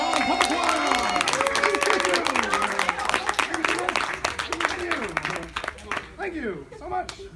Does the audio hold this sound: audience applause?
yes